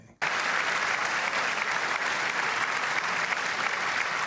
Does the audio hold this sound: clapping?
yes